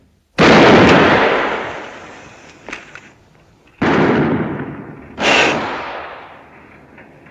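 Gunshots ring out in a sharpshooting display: three loud, echoing blasts spaced a couple of seconds apart, each trailing off, with a small knock between the first two.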